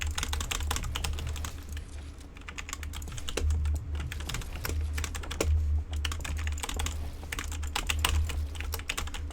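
A loud, cheap-sounding computer keyboard typed on steadily, with fast clusters of sharp key clacks and occasional heavier thumps, recorded up close over a low background hum.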